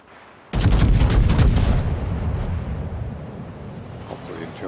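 Naval guns firing in World of Warships during a battle involving the battleship Haruna: a sudden heavy boom bursts in, then a long rumbling roar and rolling echo fade slowly over several seconds.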